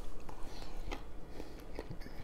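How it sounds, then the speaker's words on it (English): Someone bites into a crispy dry-aged smash burger with onions, pickles and cheese on a bun, giving close, crunchy bites and chewing over a dense, noisy background. "Wow, a crispy crunch of that smash burger."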